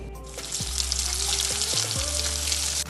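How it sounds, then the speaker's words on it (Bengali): A further batch of potato samosas deep-frying in oil gives a continuous, even sizzle up close, with a few light stirring knocks and no voices. "বাকিগুলো ভেজে নেব"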